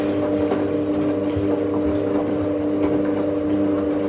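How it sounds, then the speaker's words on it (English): Washing machine on its third intermediate spin at 700 RPM, a steady loud whirring hum with an even rumble and faint rattling throughout, no voices. "This is the third intermediate spin. Goes to 700 RPM."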